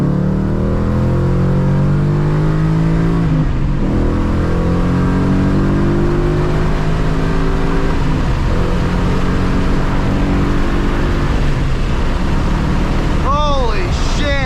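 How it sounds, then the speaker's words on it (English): A loud 2013 Ford Mustang GT accelerating hard in second gear from about 40: a close, continuous engine roar rising steadily in pitch, with excited voices talking over it. "that second gear pull just really hit"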